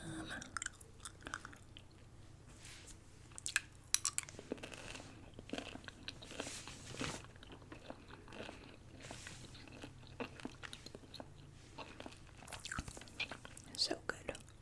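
Gum chewed close to the microphone during soft-spoken whispered ASMR, with moist smacking and crunchy bites scattered throughout, under quiet whispering.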